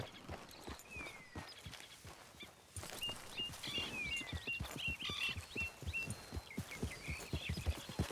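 Horse hooves clip-clop at a steady walking rhythm in the video game Red Dead Redemption 2, close and distinct, with birds chirping in the background.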